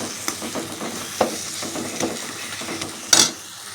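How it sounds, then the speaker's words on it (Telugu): Tomatoes frying with chilli powder, salt and tamarind water in a pan, a soft steady sizzle broken by scattered stirring scrapes and a sharper clatter near the end, close and without talk. "ఒక 2 నిమిషాలు బాగా ఫ్రై అయినిద్దాం"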